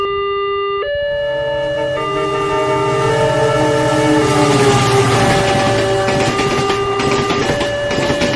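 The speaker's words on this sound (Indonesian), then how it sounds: "ada perlintasan kereta api di jalur arah hutan, jadi mohon bersabar sehingga kereta selesai melintas" A loud train horn sounds in long held tones, followed by the heavy rumbling roar of a train rolling past a level crossing, building and staying loud.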